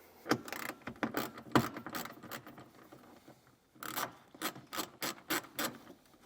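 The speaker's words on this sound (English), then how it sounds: "we're going to need a 10mm socket, and we're going to remove the 2 bolts here" A 10mm socket wrench loosens bolts on the scuff panel of a 2022 Toyota Sienna, giving close ratcheting clicks in short bursts with a pause between them.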